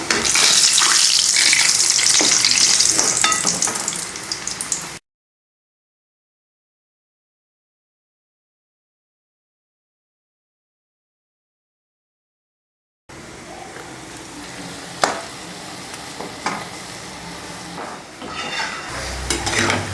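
Hot oil sizzles and bubbles loudly as vada fry, then cuts to silence, then returns as a softer frying crackle on low heat with occasional sharp pops.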